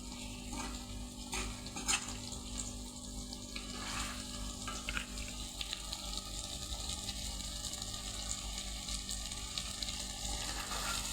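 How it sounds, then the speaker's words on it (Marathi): Masala for stuffed brinjal sizzles and is stirred in a kadhai, a steady low frying hiss with light scraping taps of the spoon throughout, close and without talk. "आणि आता आपण मसाला परतवणार आहोत"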